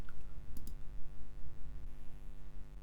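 Two quick mouse clicks on a PDF icon on a computer, sharp and close, over a faint steady electrical hum.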